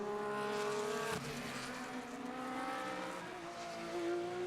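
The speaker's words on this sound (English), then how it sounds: "Marcelli still sits on the tail end of that Ferrari in the Audi." Race cars, including a Ferrari and an Audi, roar around the Mid-Ohio Sports Car Course during a GT race, with a loud, steady engine drone and a brief sharp shift midway.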